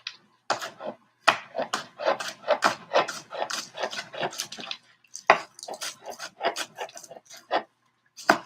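Food being chopped while other dishes cook in a home studio kitchen: a run of close, irregular knife taps and scrapes on a board, bursting in quick clusters with brief pauses between.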